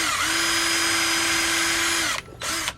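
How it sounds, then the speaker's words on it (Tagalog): A noisy power drill whines steadily at a constant pitch, close and loud, stops briefly, then runs again in a short second burst. "May ingay yung barena ko."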